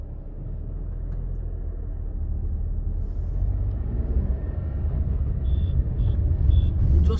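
Inside a 2023 Renault Kiger non-turbo AMT driving in economy mode, a steady low engine and road rumble slowly grows louder as it accelerates, with a few faint high beeps.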